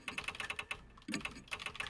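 Steady run of quick keystroke clicks from an on-screen keyboard in the video game Death Mark, close and fairly loud, with a brief pause near the middle before the tapping resumes.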